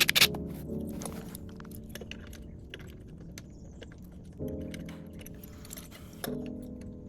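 Metal bolts clink and rattle in sparse, light taps during work on a mini bike brake, close and fairly quiet, with small scraping handling noises between them and no talking.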